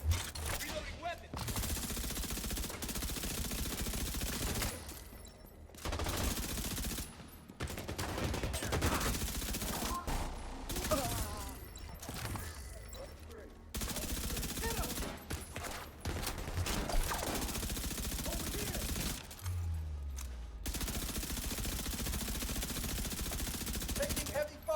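Video game gunfire in The Division 2: bursts of rapid automatic fire and single shots come in repeated clusters separated by short gaps, mixed with weapon handling clicks and a low rumble.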